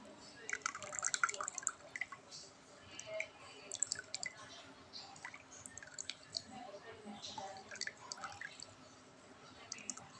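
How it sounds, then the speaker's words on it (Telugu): Water drips and trickles during a home science experiment, heard as faint irregular plinks and small splashes at close range, with quiet talk running underneath. "చూడండి ఎట్లా వస్తున్నాయి వాటర్ వస్తున్నాయి చూడండి."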